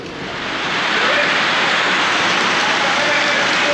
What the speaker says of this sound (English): it is raining on us again.